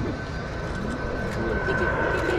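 A T-4 jet trainer turning overhead during the opening flight at the Hamamatsu Air Base air show, a steady broad jet roar at moderate distance with a spectator talking over it.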